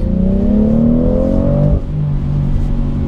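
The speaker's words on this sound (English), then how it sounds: "that sound, it's like an orchestra out of the engine." A BMW X3 M40i engine revs hard in New York City traffic, a loud, close, rising drone that climbs in pitch, then drops abruptly as it lets off and settles into a lower, steady hum.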